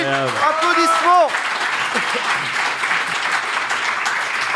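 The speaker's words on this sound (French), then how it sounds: "Applaudissements." Audience applause on a French weekly news-satire show, with a voice speaking briefly at the start before sustained, loud crowd clapping takes over and continues steadily.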